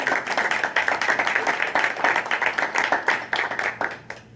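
An audience applauds Ms. Bacher at a school board of education meeting, a dense, steady burst of many hands clapping close by that carries on for several seconds and thins slightly toward the end.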